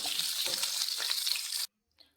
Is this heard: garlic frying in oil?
yes